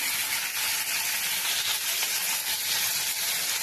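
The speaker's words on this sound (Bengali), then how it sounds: "বন্ধুরা, মাছটা ভাজা হয়ে যাক" Fish pieces rubbed with salt and turmeric frying in hot oil, a steady, close, loud sizzle with dense crackling that holds evenly throughout with no voices.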